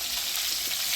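Fish sizzles in hot oil with a steady, close, bright frying hiss and crackle that holds evenly throughout, with no talking.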